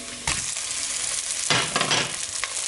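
Italian turkey sausage drops into a pan of golden shallots and fries with a loud, broad sizzle that surges at the start and again midway, then crackles steadily up close.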